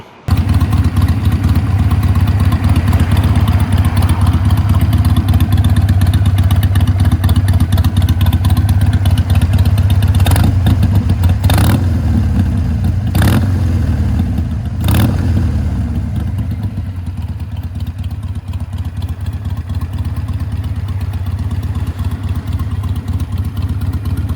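Harley-Davidson Iron 883 with a Vance & Hines Twin Slash slip-on exhaust, heard close and loud as a steady throaty idle broken by several sharp blips of revving, then settling back to a rumbling idle.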